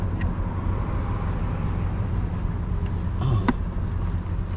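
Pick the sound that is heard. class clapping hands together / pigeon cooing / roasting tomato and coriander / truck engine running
truck engine running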